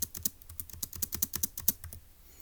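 Rapid keystrokes on a computer keyboard entering a three-digit answer to a Turing Machine logic puzzle, a quick close run of clicks that tapers off near the end, with no voices.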